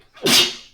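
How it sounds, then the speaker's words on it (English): A single loud sneeze from a woman close by, with a sharp rising onset and a breathy, hissing burst that fades over well under a second. "I'm gonna sneeze."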